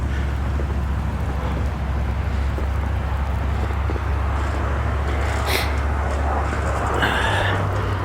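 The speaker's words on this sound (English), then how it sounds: "traffic on Canal kind of picks up" Street traffic on Canal during the winter storm in Westerly, Rhode Island, heard as a continuous wash of wind and tire noise with a low rumble, a passing vehicle swelling briefly near the end.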